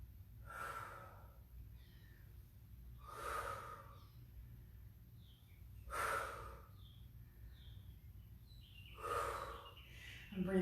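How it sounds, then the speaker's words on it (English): Heavy, labored breathing from an instructor in a Saturday circuit training class, with four loud breathy exhales spaced a few seconds apart over a low steady background hum. "I'm breathing super audibly."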